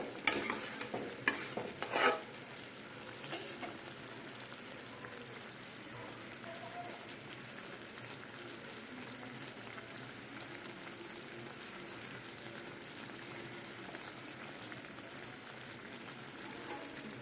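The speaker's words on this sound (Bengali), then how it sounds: "এই ঢিমে আছে সুন্দর সেদ্ধ হচ্ছে এইভাবে হতে থাকবে" Amla gooseberry pickle with ginger and garlic simmers gently in a pan over low heat, a soft, even bubbling hiss after a few brief clanks at the start.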